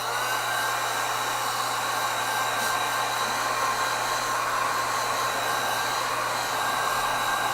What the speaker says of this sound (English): I need to dry it a bit. I've just got my dryer.